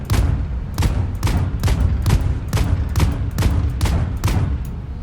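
A ship turret fires in the space game Void Crew, about ten evenly spaced heavy shots with booming low ends, loud and close, no voices.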